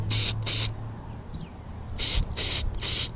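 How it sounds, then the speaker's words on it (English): Chartreuse dye is sprayed onto a fishing lure's worm tail for bass fishing. Two short hissing bursts are followed after a pause by three more, sharp and close, with a low background rumble. "We're gonna spray some chartreuse on there to get that chartreuse color"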